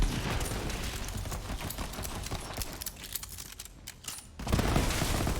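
Rapid, continuous gunfire in Borderlands 3, a dense clattering stream of shots that thins briefly before a louder burst near the end, fairly quiet overall.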